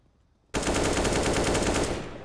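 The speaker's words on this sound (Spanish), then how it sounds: "No sé dónde está, disparo por disparar." A rapid burst of automatic gunfire in Counter-Strike: Global Offensive erupts suddenly after a short quiet moment, loud and close, rattling for about a second and a half before trailing off.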